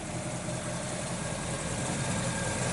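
A 1969 Pontiac GTO V8 idles steadily with a deep, even low rumble, close and loud with no pause or talking.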